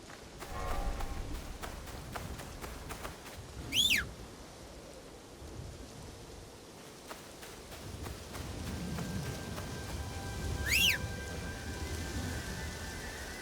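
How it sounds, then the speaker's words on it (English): In Assassin's Creed Shadows, the character whistles twice to call a horse, each a short rising-falling whistle, the two spaced several seconds apart, over a backdrop of steady rain and low rumbling. "Sometimes you gotta call the horse"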